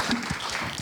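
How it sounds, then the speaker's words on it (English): Conference audience at an entrepreneurship summit panel session in Malaysia applauds the panelists, a short burst of dense clapping from many hands, close and steady with no talking. "Can we give a round of applause again to Aaron, Kamarul, Sharmeen, and Swee?"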